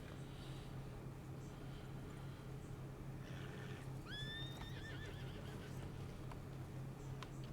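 A horse whinnies in Red Dead Redemption, one rising then wavering neigh in the middle of the clip over a steady low rumble of hooves and background noise, no talking.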